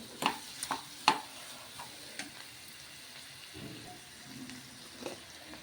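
Mutton stirred with chili powder in a cooking pot: a few sharp spoon scrapes and clinks, then soft steady sizzling, fairly quiet and close.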